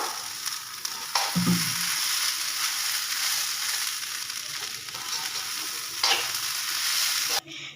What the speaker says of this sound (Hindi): एबे आमे गैस को सिम करि नेबा एवं हमरो चाउल को भलो भाबरे भाजी नेबा